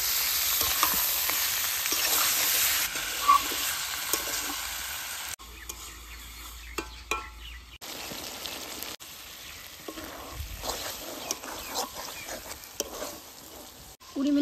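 Pangas fish fries in a pan with onions and oil, a continuous crackling sizzle that drops away in places and returns softer, close and steady, with no talking.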